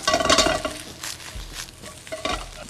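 Egg being stir-fried with toasted mackerel for Thai fried rice with salted egg, a spatula scraping and clinking against a pan in several quick strokes over a soft, steady sizzle.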